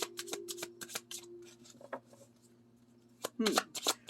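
Crisp riffling and snapping of cards in quick bursts, close by, with a brief pause before another flurry of shuffling.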